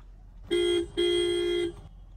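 A Maruti Suzuki Brezza ZXi+ Smart Hybrid (2022) horn sounds twice nearby, a short honk followed by a longer steady blast, over a faint background hum.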